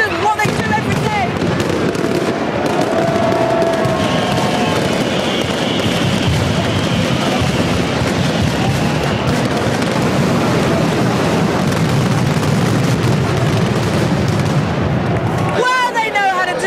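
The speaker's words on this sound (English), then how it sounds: "We felt the fireworks" Loud, continuous crackling and popping bursts of fireworks in Valencia roll on without a break, dense and booming, with a voice heard amid the din.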